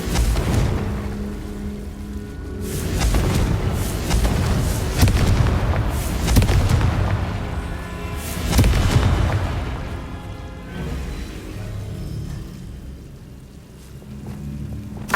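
Confringo fire spells burst in Hogwarts Legacy with heavy booming explosions, several big blasts rolling one after another over a constant rumbling game backdrop.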